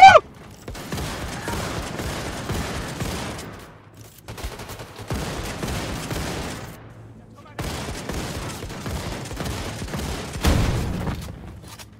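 Rapid automatic gunfire from the video game Wolfenstein II, dense sustained bursts of shots broken by brief pauses, loud and close, with a heavier blast near the end.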